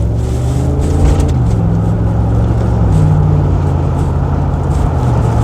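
Overfinch Range Rover P38, a tuned luxury British SUV, driving along with a steady, loud low engine drone that shifts pitch as it changes speed, heard alone with no talk.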